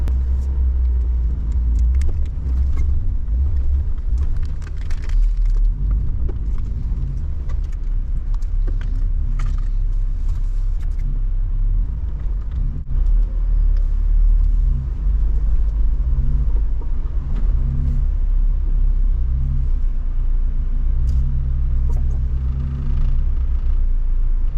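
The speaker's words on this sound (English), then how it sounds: "Drive over avalanches." Jeeps driving over avalanche snow, a steady deep engine rumble with low crunching road-like noise running continuously and fairly loud throughout.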